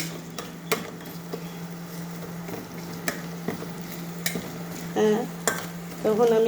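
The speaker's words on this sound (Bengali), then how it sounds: "এই পেঁয়াজ ভাজা একটু একটু হয়ে আসলে পরে দিব" Onions fry and get stirred in a pan, with repeated scraping and knocking of a spoon against metal over a soft sizzle and low hum, with some faint voice-like tones toward the end.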